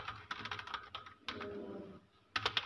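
Typing on a computer keyboard while working in Microsoft Word: quick clusters of close, crisp key clicks broken by short pauses, then a final flurry of taps, with no talking.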